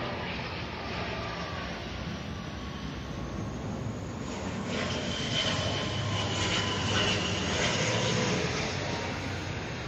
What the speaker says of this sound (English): Plane going by.